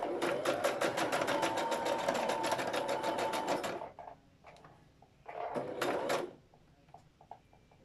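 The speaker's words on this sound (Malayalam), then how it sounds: "ഇനി സ്റ്റിച്ച് ചെയ്യാം." A sewing machine stitching fabric runs in a steady rapid whirring burst for about four seconds, then stops, followed by a shorter second run and a few light mechanical clicks; no talking.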